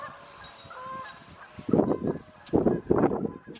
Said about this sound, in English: There's my ducks, my pet ducks.